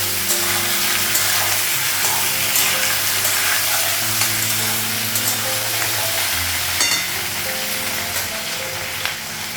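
Cauliflower frying in a pan, with a continuous dense sizzle of hot oil at close range and a low steady hum underneath, without much change throughout.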